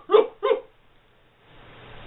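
A dog gives two short, sharp barks close by, then falls quiet as faint room noise returns.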